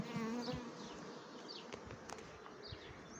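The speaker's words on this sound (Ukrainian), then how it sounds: "Бджілки працюють." Honeybees buzz around hives while foraging on flowering rapeseed. Soft, overlapping humming drifts in and out as individual bees pass by, fairly quiet, with no talk.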